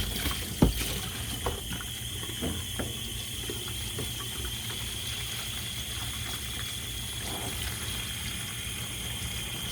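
Water sloshing and running as dyed fiber is rinsed in a clean tub, a steady, close wash of splashing and trickling with a sharper knock near the start.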